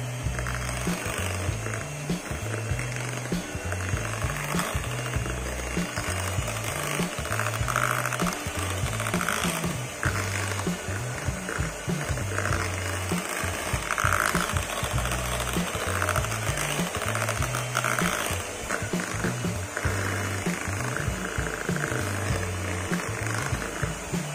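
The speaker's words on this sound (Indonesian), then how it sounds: "Cukup mixer sampai semuanya tercampur rata saja." An electric hand mixer whirs steadily through a batter of egg yolks, salt and vanilla extract for cookies, a continuous close mechanical hum with a rattly, uneven beat and no talking.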